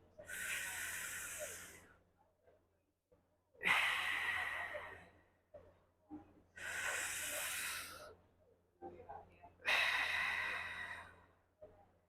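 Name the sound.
deep breathing in while pushing belly out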